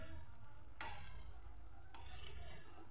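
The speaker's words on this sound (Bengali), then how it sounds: "আর অল্প কিছুটা সময় নাড়াচাড়া করে নেব।" Cabbage and potato curry being stirred in a pan, a steady low sizzle with two louder scraping stirs, one near the start and one toward the end, no talking.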